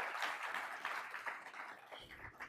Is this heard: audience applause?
yes